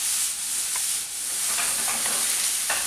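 Vegetables for ratatouille sizzle steadily in a frying pan, a constant bright hiss with a few soft stirring scrapes, close and alone.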